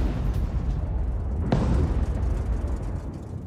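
An air strike explosion in southern Lebanon, heard as a deep rumbling boom over continuous low roar, with a single sharp crack near the middle followed by a lingering rolling decay.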